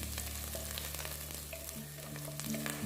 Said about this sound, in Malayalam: ആ ഇഞ്ചി വെളുത്തുള്ളിയുടെയൊക്കെ റോസ്മെൽ ഒന്ന് മാറുന്നിടം വരെ ഒന്ന് വഴട്ടിയെടുക്കുക